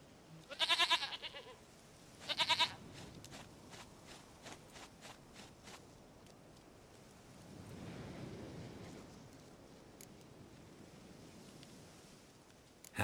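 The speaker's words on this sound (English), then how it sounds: "Goat of mine, dearest, sweetest goat." A goat in The Witcher 3 gives two loud, quavering bleats close by early on, followed by scattered soft footsteps and a faint, distant wash of ambient sound.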